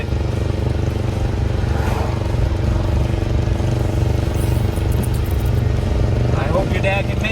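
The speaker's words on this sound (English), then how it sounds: "Listen to it, it's popping really hard." A small Japanese truck engine runs roughly with a steady loud drone, its exhaust popping and backfiring under the rumble. Voices talk over it.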